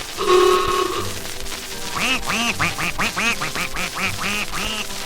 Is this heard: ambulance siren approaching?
no